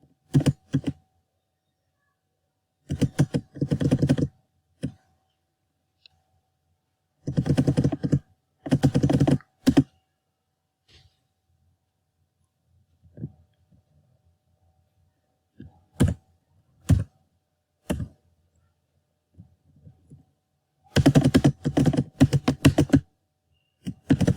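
Bursts of typing on a computer keyboard while writing code for an AngularJS component unit test, with quick clicky keystrokes in clusters separated by silent pauses, close and fairly quiet, and no talking.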